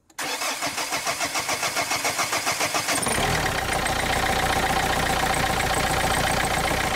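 A car engine with newly replaced fuel injectors cranks rhythmically for about three seconds, then catches and settles into a steady, even idle, close and clear with no talking.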